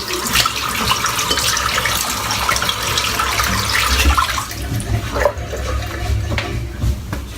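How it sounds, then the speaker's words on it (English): Running tap water pours steadily while something is rinsed off beneath it, a continuous close splashing wash with a few brief knocks and clatters, no voices. "Right, we'll rinse this off now."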